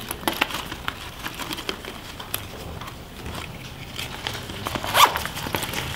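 Zipper on a Deuter Belt I waist bag being opened, a series of short rasping pulls and ticks with light handling rustle, close up and with no talk.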